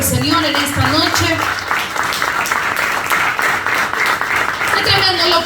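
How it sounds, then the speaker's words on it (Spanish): A church congregation applauding during an evening Bible study, steady clapping mixed with voices and shouts, loud and continuous for several seconds. "¿Cuántos me pueden dar un aplauso al Señor en esta noche?"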